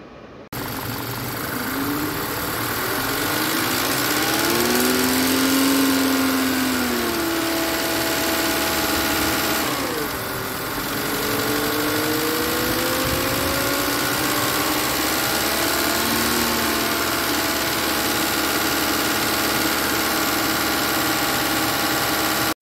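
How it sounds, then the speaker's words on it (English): A 2014 Volkswagen Tiguan with a 2.0 TSI engine idles close up in a steady, continuous hum, its tone wavering and dipping briefly midway with faint drifting whine over the running engine. "So now the engine is running. We are just gonna wait until the cooling fans turn on. It's idling at the moment."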